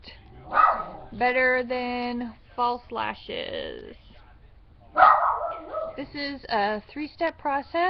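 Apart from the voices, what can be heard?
dogs barking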